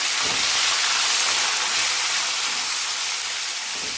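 Boiled potatoes fry in a pan for sabudana khichdi, giving a steady, fairly loud, rain-like hiss that continues evenly throughout with no break and no talking.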